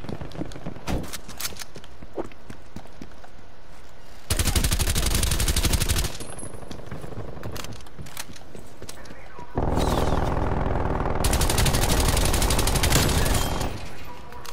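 Bursts of XM4 assault rifle fire in a shooter video game, sustained automatic volleys at roughly 4–6 s and 9.5–14 s, loud and close, with scattered single shots and game effects between them.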